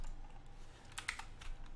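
A few quick, light keystrokes on a computer keyboard sound close by in a quiet room, clustered near the middle of a short stretch.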